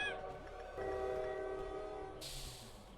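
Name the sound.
train horn in Lobotomy Corporation video game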